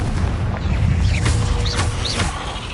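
Confringo spell explosions in Hogwarts Legacy, booming blasts layered over rumbling game noise, with whooshing, sweeping magical streaks rising and falling across the middle of the clip.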